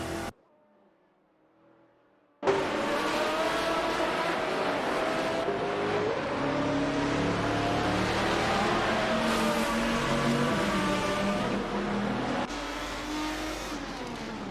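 GT race cars lap Interlagos in a racing video game, with a sustained high engine whine that rises and falls through gear changes after a brief quiet opening, loud and continuous.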